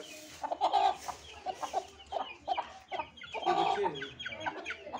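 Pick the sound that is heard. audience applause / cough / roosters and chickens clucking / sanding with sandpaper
roosters and chickens clucking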